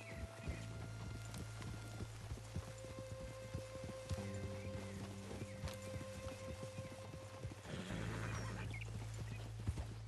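Hooves clip-clop at a steady trot as a horse is ridden in the Red Dead Redemption 2 video game, close and rhythmic over a low droning background, with a brief whinny.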